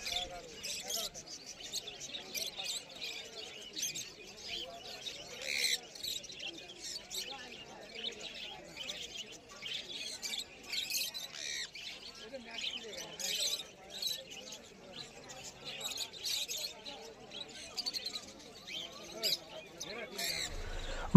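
Many small birds chirp and tweet continuously at a pet bird market stocked with parrots such as sun conures, a busy, fairly faint chorus of overlapping calls throughout.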